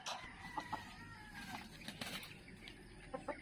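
Roosters spar with scattered clucks and short squawks mixed with scuffling and wing flaps, faint and somewhat distant over a low background hiss.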